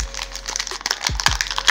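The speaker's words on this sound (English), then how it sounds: "So four booster packs open up here." Pokemon booster pack foil wrappers torn open and crumpled in hand, a close, brief burst of crinkling and crackling with two sharp rips near the end.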